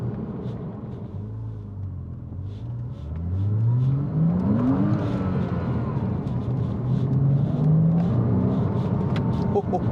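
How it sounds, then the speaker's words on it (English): A Porsche Boxster S 987 flat-six engine revs up on a cold British winter road, rising in pitch in two sweeping climbs from a deep bellow to a higher wail, loud and close with faint voice underneath. "as you climb up the rev range, it starts to become that much more high-pitched"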